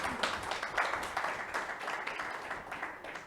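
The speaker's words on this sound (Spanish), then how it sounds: "Denle un aplauso al Señor" Church congregation applauding during a sermon, a dense, steady wash of many hands clapping at moderate distance, continuous throughout with no voices standing out.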